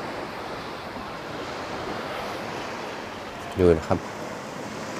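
Calm sea at Hua Hin beach, a soft continuous wash of small waves mixed with wind noise, with someone speaking briefly near the end.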